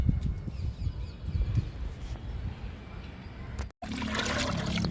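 Liquid fertiliser pouring onto a large Adenium plant, a steady close trickling and splashing for about four seconds with a brief break, then a brighter, hissier pour.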